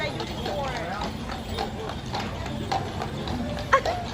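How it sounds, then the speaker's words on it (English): Horses' hooves clip-clop steadily on a street in San Antonio, an even rhythmic clatter under the hum of people talking, with one louder hoof strike near the end. "So many horses."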